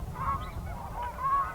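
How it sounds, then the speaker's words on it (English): Geese honk near swans and herons at a rookery by dry fields, two or three nasal calls in quick succession, fairly close and alone. "These swans, and these geese and herons in a rookery"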